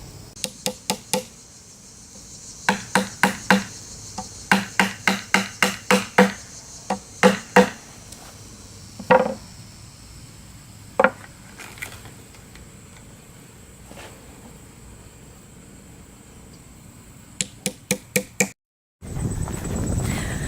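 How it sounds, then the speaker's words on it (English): Bursts of sharp, rapid hammer strikes driving furniture glides into a wooden side table, in quick clusters, with pauses and quieter taps between, close and loud. "I'm going to hammer these in right quick."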